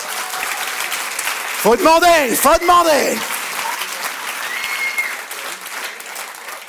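A conference audience applauds with a dense wash of clapping throughout, while someone speaks over it and a voice rises and falls in the middle.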